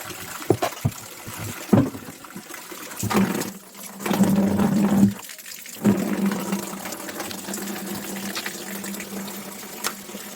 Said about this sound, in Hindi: फाइनली अब ये पानी आ गया तो ना कुछ तो 2-4 बाल्टियाँ अगर भर जाएंगी